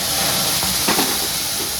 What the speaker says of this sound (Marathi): मी थोडंसं पाणी इकडं ओतून घेते रव्यामध्ये